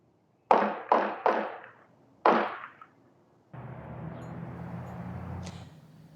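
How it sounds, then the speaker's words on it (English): Four sharp gunshots with echoing decay, three in quick succession then one more, followed by a steady low rumbling hum, captured on a neighborhood surveillance recording at night. "surveillance with me where you can hear the reported gunshots"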